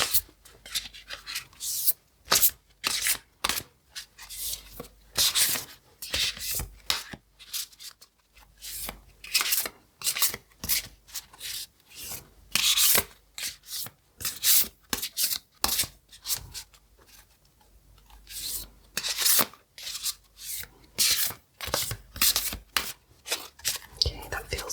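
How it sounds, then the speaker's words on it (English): Divination cards shuffled by hand in a quiet ASMR setting, a long run of close, crisp riffling and slapping bursts with brief pauses between shuffles. "So I'll give these a good shuffle."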